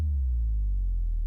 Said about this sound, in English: I also use a sub drop